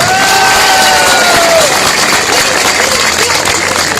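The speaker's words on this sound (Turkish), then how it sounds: "onlara da bir alkış istiyorum" A large crowd at an AK Parti rally in Çumra cheers and claps loudly and continuously, with a whistle-like tone and shouts cutting through the roar.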